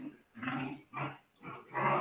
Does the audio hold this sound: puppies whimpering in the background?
yes